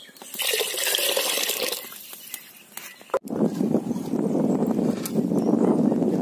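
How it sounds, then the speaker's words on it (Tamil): Water splashes and gushes steadily into a cooking pot for chicken pepper rasam, the tone deepening as it fills, with a brief clunk midway before pouring resumes. "நல்லா ஊத்துங்க, ரசம் தானே, ஃபுல்லா ஊத்துங்க"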